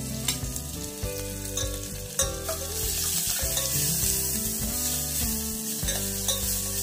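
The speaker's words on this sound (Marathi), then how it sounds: "जिरे, मोहरी, तीळ ह्याची फोडणी घातलेली आहे। फोडणी तडतडल्यानंतर" A tempering of cumin, mustard seeds and sesame sizzles and crackles in hot oil with curry leaves and coconut for a Belagavi-style toor dal saar. The dense, continuous frying hiss carries sharp popping bursts and stirring throughout, close and loud.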